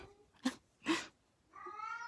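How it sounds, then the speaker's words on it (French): Cat meowing, two short separate meows followed by a longer drawn-out cry, fairly close but soft, with no talking. "Chat à donner."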